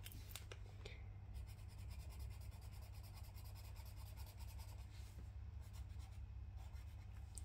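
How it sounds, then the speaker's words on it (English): Felt-tip pens scratch and rub across paper while colouring, a steady close, quiet scribbling texture over a constant low background hum, with brief sharper strokes throughout. "the sound of like these felt tips on the paper"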